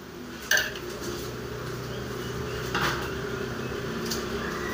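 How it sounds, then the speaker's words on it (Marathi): Egg curry being served from a pan into a bowl, with a sharp metallic clink of a utensil against cookware followed by a softer scrape and a few faint taps, close and quiet. "आता मी एका वाटीत काढून घेते."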